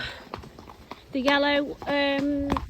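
Hooves clip-clop at a walk on a horse's first hack out, close and rhythmic, while a person talks and a high tonal whine comes in twice.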